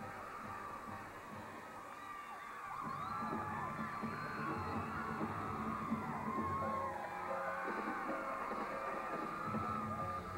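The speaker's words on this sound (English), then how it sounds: "nothing beats the excitement of a home crowd" Home crowd cheering at a 2002 college gymnastics meet, a sustained arena roar of whoops, yells and high-pitched shouting that rises and holds steady, fairly distant and filling the whole space.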